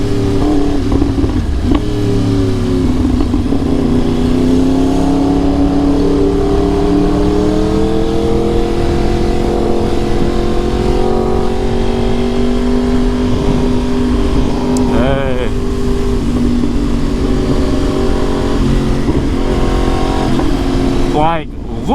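Motorcycle riding through congested Houston traffic, its engine droning steadily and loudly throughout with shifting pitch as it works between cars, a voice talking over it.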